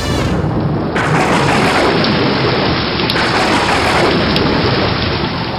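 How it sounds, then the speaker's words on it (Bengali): A thunderstorm with heavy rain, a loud, dense roar of downpour with low rumbling thunder running throughout, close and overwhelming. "যা, বৃষ্টি নেমে গেল।"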